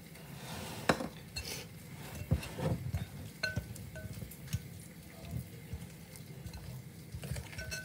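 Black raspberries being stirred into scone dough in a bowl give a quiet, scattered run of soft scrapes and small clinks from the spoon, with no talking.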